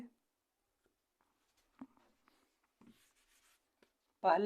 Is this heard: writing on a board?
yes